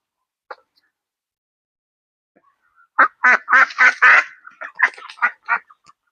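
Native ducks kept with chickens on a small net-enclosed farm quack loudly and close up in a quick burst of raspy calls after a short near-silence, with no talk over them.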